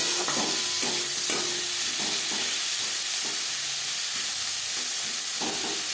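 Three chopped medium onions and a sliced tomato fry in a pan of oil for a Bengali puti fish curry, giving a steady, loud, continuous sizzle and hiss with occasional soft stirring clicks.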